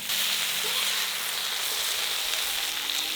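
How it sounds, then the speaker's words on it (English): Fish fries in a pan over an open outdoor fire, giving a steady, close hiss and crackle of sizzling oil that stays even throughout with no other sounds. "Now we fry these until they're crispy and"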